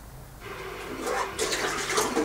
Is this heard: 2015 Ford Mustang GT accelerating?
no